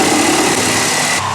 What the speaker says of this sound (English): You can probably hear the sawing in the other area.